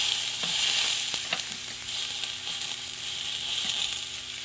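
Mushrooms cooking slowly on a Starfrit Rock smokeless grill, a continuous soft crackling sizzle with scattered pops and occasional clicks, heard close by with no talk.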